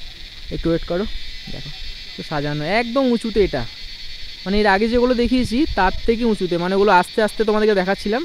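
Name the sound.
crickets chirping in Takda forest, Darjeeling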